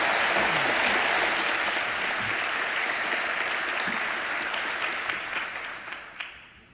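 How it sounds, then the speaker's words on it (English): Large theater audience at a humor panel gives a loud, full round of applause for an arriving speaker, dense clapping that gradually tapers off toward the end. "A big round of applause for David Rakoff."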